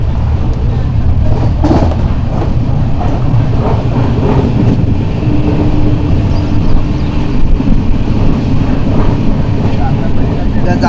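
A moving passenger train on a Sangameshwar to Mumbai journey makes a steady, loud interior rumble with faint rattles and clanks, and occasional voices speak under the constant running noise.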